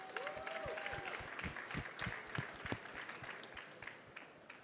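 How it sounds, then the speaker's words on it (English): A round of applause for award-winning students at a graduates' event in South Florida, steady overlapping clapping from a crowd held at a moderate level throughout, with a faint whistle-like tone near the start. "a big round of applause for them"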